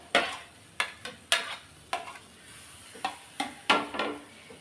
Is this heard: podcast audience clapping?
no